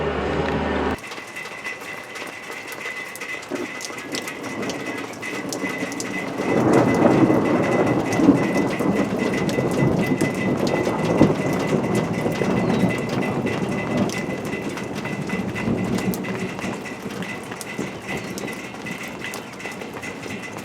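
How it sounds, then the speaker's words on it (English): A light thunderstorm rolls through: steady rain fills the scene and low thunder rumbles swell and linger in the distance, loudest in the middle stretch, with no voices present. "some light thunderstorms rolled in a little while ago"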